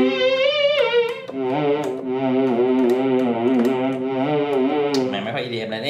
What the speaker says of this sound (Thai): นี่เสียงออร์แกนนั่นเองเนาะ